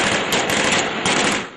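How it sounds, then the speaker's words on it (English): Dense, rapid crackling gunfire rattles continuously for a moment in Libya during the 2011 conflict, loud and sharp with overlapping pops. "The gunfire continues to crackle."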